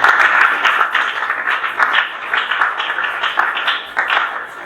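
A congregation applauds during a Sunday church service, a steady, fairly close round of many hands clapping that lasts the whole stretch with no talking over it.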